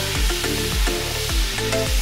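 Green chilies and tomatoes frying in masala with garlic for a Bombay fish curry, a steady close sizzle with rhythmic stirring scrapes throughout.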